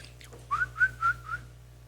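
A person whistles a short rising tune of four clear, sustained notes, close and fairly loud, alone with no talking around it.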